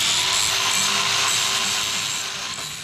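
Worn 80-grit flap disc on a power tool buffing the body of a 2014 Toyota Hilux N70, a steady close whirring grind that fades slightly, with no talk.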